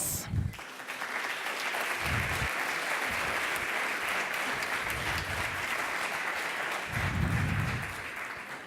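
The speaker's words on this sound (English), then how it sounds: "This is your applause." An audience at a blockchain hackathon's final pitch session applauds a pitch team coming to the stage, sustained dense clapping for nearly nine seconds with a few low voices and thumps mixed in.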